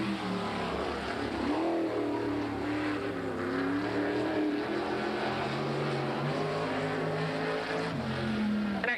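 Soft sprint car tires rub against the rear rims as World of Outlaws sprint cars race at Hales Corners in 1987, a loud continuous engine roar with wavering pitch dominating throughout.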